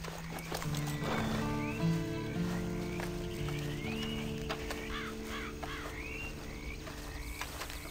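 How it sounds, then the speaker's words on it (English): Horse hooves clip-clop in Red Dead Redemption 2 as a horse neighs and whinnies near the start, followed by a steady walking gait under game music and ambient wildlife sounds. "You better get on this horse."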